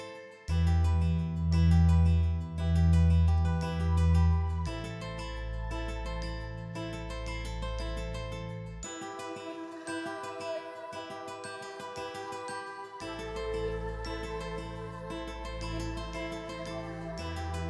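Melodic guitar sample beat built in FL Studio, with layered guitar melody, vocal chops and heavy bass that drops out midway and returns, steady and fairly quiet with no talk.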